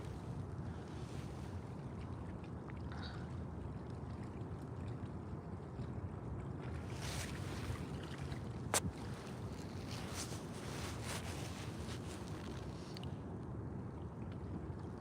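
Wind blows steadily outdoors by the water at Hamilton Bay during a fishing outing, a soft continuous rush and buffet with faint lapping water and one sharp click midway.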